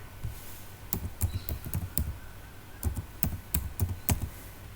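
Typing on a computer keyboard, with irregular clusters of light clicking keystrokes at close range and short pauses between them over a low room hum.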